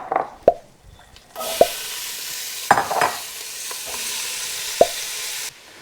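Chopped onions, peppers and celery hit hot rendered fat and start a loud, steady sizzle that runs for several seconds, with a few sharp clinks and stirring knocks from a spoon near the start and again midway.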